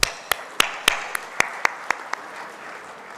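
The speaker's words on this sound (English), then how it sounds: "I believe we should give a big round of applause for people who built this." Sparse, scattered hand claps at a workshop on GNSS-based electronic toll collection in India, about ten distinct claps spread unevenly over a few seconds in a quiet room, thinning out toward the end with no talk.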